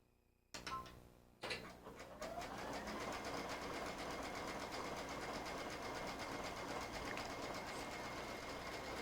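A Brother sewing machine stitches steadily at an even, fast rhythm after a couple of short starts, a close continuous mechanical whir with no voices.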